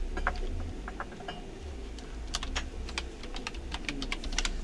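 Quiet, irregular tapping of keys on a computer keyboard, clusters of clicks at a desk with faint background hum.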